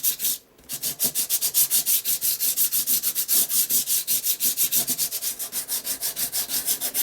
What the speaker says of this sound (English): I'm just going to rub over the top just to kind of remove a little bit of that colour, just to kind of distress it a little bit.